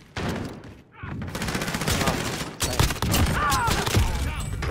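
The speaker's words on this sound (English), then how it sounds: "Where am I getting shot from? I'm being shot from every possible fucking angle." Heavy gunfire in Call of Duty Warzone, a battle royale shooter: rapid, overlapping bursts of automatic fire from several directions, loud and close, nearly continuous after a brief lull, with whizzing and impact sounds and a voice talking over the chaos.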